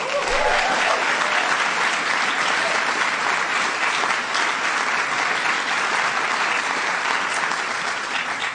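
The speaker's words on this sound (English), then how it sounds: "Give them a big round of applause." An audience at the Kennedy Center honors event fills the hall with loud, sustained applause that keeps going evenly for the whole stretch.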